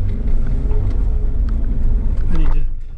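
A Jeep's tires spin in deep snow on a stranded-motorist rescue, a heavy low engine rumble and churning drone that stays close and loud throughout, easing slightly at the end.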